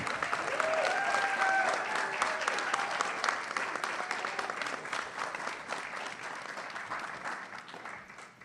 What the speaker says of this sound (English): Please give a huge round of applause to Peter Biddard.